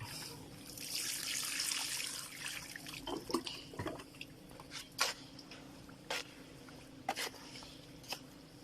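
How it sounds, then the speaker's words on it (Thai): Cement and sand are mixed with water for a homemade cement flower pot, a wet squelching and sloshing that starts as a steady churn and breaks into separate squishy dabs and drips, close and with no talk. "เสร็จแล้วเราก็ผสมปูน กับทรายเข้าด้วยกันทีน้ำนะครับ"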